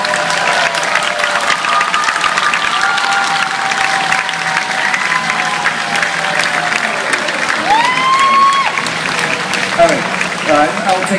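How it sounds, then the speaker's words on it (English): Loud crowd applause and cheering for a newly engaged couple after a marriage proposal, thick clapping with whoops and shouts rising over it, and a voice or two calling out near the end. "Give them a big round of applause."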